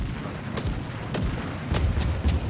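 Sniper rifle shots in a video game, three or four heavy booming reports spaced about half a second apart, close and loud over a rumbling background.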